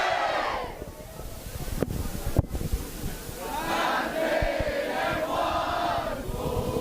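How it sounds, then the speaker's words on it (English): Schoolboys and schoolgirls of Kingswood College shout war cries at halftime of a 1st XV rugby match against Daniel Pienaar, a broad massed crowd roar sustained throughout, with a couple of sharp bangs midway. "the boys and girls of Kingswood College here supporting their team during the halftime, cheering them on with some war cries"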